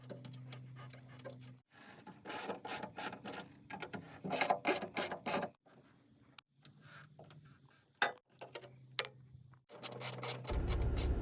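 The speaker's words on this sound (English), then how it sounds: "I'm going to start with removing all the bolts off this" A ratchet clicks in rapid bursts as bolts are loosened from a Jeep's factory license plate mount, the close ratcheting broken by short pauses and a low background hum, with no talk.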